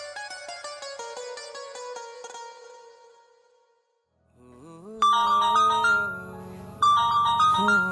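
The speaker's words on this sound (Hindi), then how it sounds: "आज मैं पहले सीमा को ही फोन करता हूँ।" A tinkling melodic tone repeats, fades, then a brighter electronic phone ringtone melody plays loudly twice with no talk.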